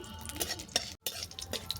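Panch phoron, dried red chillies and bay leaf crackle in hot mustard oil in a kadai, with close spatula scrapes and stirring clinks over a quick, busy sizzle, briefly cut off partway.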